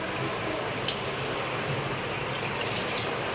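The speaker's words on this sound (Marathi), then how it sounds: "मी चार ते साडेचार वाट्या पाणी घालणार आहे" Water pours continuously into a pot of lentils, a steady splashing rush with no pauses.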